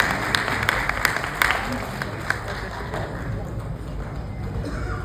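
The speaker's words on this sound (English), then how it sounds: "Let's give him a round of applause," A crowd at Agartala Fashion Week in the Polo Towers Hotel applauds a man receiving a memento on stage. The clapping is a continuous, fairly even patter, with a few sharper claps early on and a voice speaking over it.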